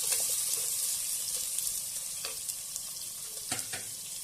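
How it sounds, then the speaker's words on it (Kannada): Chopped onions fry in hot oil for an avaraekalu bath, giving a steady soft sizzle broken by a few sharp clicks from stirring. The sound is close and moderately quiet, and no one speaks. "ಈರುಳ್ಳಿಯನ್ನು ಸೇರಿಸ್ಕೊಳ್ಳೋಣ ಈರುಳ್ಳಿ ಸೇರಿಸ್ಕೊಂಡು ಅದನ್ನು ಕೂಡ ಇವಾಗ ತಯಾರಿಸೋಣ"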